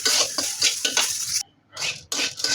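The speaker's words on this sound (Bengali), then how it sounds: "আমি এভাবে যাতে পুড়ে না যায় এর জন্য আমি একটু নাড়িয়ে দিচ্ছি" Food being stirred and fried in a pan for mashed lentils and chopped meat, scraping and clinking in steady repeated strokes over a faint sizzle, close and loud with one brief pause.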